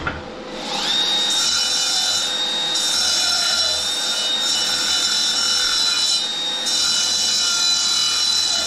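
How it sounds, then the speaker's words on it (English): A power tool grinds and sands a weld in the corner of a welding cabinet, a loud steady whine that starts after a brief pause and runs continuously with slight dips in pitch, no talking. "Give this quick little sand for that weld in the corner."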